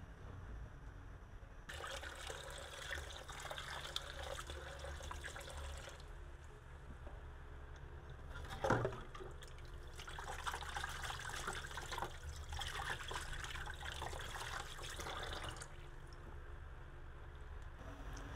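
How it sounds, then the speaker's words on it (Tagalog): Balut adobo with annatto simmering in a covered pot, a faint, continuous bubbling hiss, with one brief louder knock midway. "Hayaan lang natin siyang kumulo ng mga 10 to 12 minutes."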